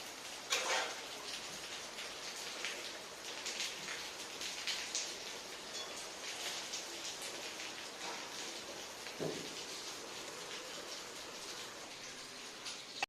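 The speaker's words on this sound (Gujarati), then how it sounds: "અહીંયા વરસાદ આવે છે" Soft, steady rain falls throughout, a gentle hiss of drops with a few sharper taps standing out now and then.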